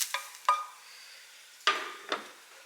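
Onions cook in a frying pan, with a few sharp scrapes and stirs of a utensil against the pan spaced apart over a quiet background, close and fairly soft.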